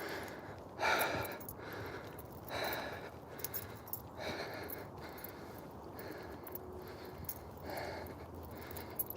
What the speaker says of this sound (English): See, now I'm breathing hard